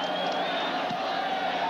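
A massive stadium crowd at a 1991 BYU at Penn State college football game, a steady, dense roar of cheering that holds at an even level throughout, heard at a distance and filling the whole space.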